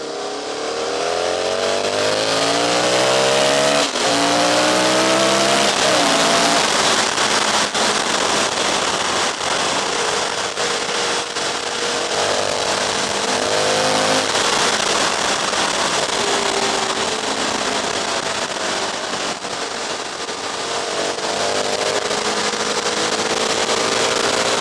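An Aprilia RSV 1000 Mille motorcycle engine roars loud and continuous while riding, with revs rising and falling through gear changes. Wind and road noise sit heavily over it.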